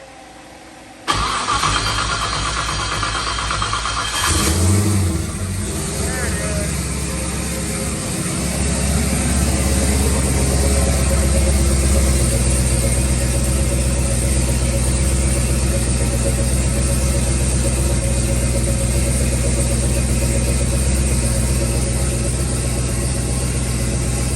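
After a VS racing turbo rebuild, an engine fires up and keeps running, an abrupt start followed by a loud steady roar with a rising whine, close and continuous, no talk.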